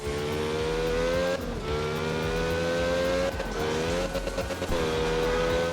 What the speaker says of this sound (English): You may recognize this car as Takami's 86 from Initial D